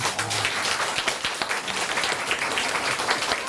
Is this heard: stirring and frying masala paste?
no